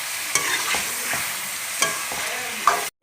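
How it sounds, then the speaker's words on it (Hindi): Chicken sizzles in a karahi with ginger garlic paste, fried steadily while a utensil stirs and scrapes the pan now and then. The frying hiss is close and even, with a few distinct stirring knocks. "तकरीबन 2-3 मिनट हो गए हैं अदरक लहसुन डालने के बाद भूनते हुए चिकन को"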